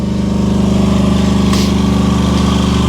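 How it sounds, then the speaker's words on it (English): A generator engine runs loud and close in a steady mechanical drone with a rhythmic pulsing, plus a brief clank midway, in the engine room of a Sealine SC38 boat. "It's going to get noisy in here because I've got the generator running."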